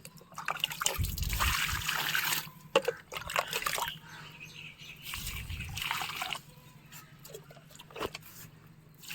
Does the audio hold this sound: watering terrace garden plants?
yes